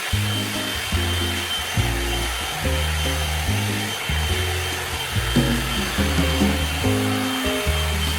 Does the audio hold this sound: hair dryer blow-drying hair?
yes